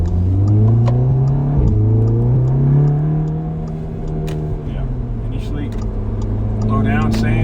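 An Audi S3 with a JB4 tune pulling hard along an 80 km/h road, engine note rising steadily through the revs with a gear change midway, loud and close from inside the cabin.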